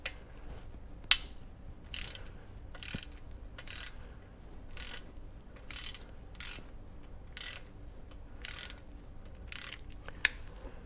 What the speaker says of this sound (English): Switching over to my palm ratchet makes life a little bit easier.